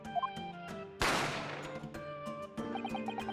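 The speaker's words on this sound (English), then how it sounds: "A gunshot rang out" A single sharp gunshot sound effect from The Great Ace Attorney Chronicles, one loud crack with a decaying tail, set amid soft chiming game music.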